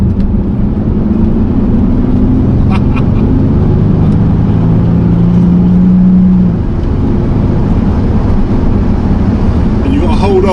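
A 2008 Bentley Continental GTC with a 6-litre W12 engine drones loudly from inside the car, its low engine note holding steady and climbing in pitch as it accelerates hard.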